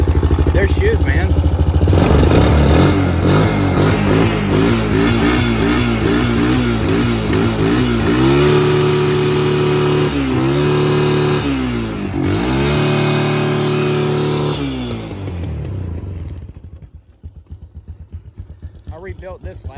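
An off-road lawn mower engine fires up and runs loud and close, revving and rumbling with clattering, its pitch rising and falling before it cuts out near the end; someone talks excitedly over it.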